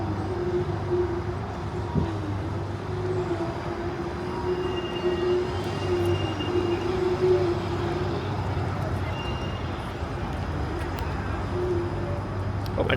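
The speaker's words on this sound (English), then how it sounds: "We'll watch the streetcar roll by before we start heading west on the Queensway." A TTC streetcar rolls by on the track at the Humber loop in Etobicoke, Toronto, a steady rumbling drone with a sustained wheel hum and faint squeals, heard outdoors without talk.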